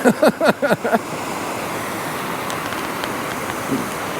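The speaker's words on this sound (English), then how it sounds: "Little man-made waterfall there" A steady rushing of water falling over a small man-made waterfall fills the scene, loud and continuous, with a few brief voice sounds at the start.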